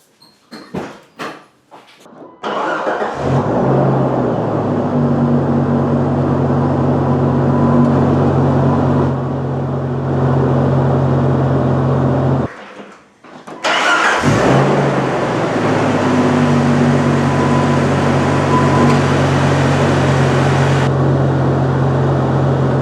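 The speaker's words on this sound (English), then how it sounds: "Well, let's crank it up and see what happens." Jeep 4.0 engine after a distributor swap, cranking briefly, then catching and settling into a loud, steady idle that dips once midway and keeps running, close by with no talking.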